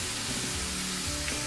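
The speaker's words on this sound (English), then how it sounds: "We'll go ahead and let that saute a little bit." Italian sausage and peppers sauté in a pan, giving a steady, dense sizzle with no break or voice over the short stretch.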